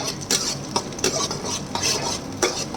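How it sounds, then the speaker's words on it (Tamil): Onions sauté in a pan until golden for yam cutlets. A close, busy sizzle carries repeated sharp spatula scrapes and clinks against the pan in a quick, uneven rhythm. "நல்லா வணக்கிக்கங்க நல்லா ஃப்ரை ஆகணும் வெங்காயம்லாம் கோல்டன் கலரில் வரணும்"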